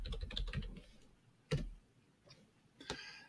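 Faint typing on a computer keyboard during video editing work, a quick run of key taps followed by a few isolated clicks and keystrokes.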